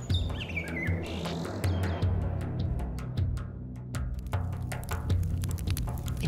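Birds chirp and tweet in rapid, overlapping calls throughout, a bright continuous chorus of short sharp notes over a soft musical bed in an animated Buddhist story.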